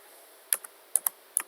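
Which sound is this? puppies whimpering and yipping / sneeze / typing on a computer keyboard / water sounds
typing on a computer keyboard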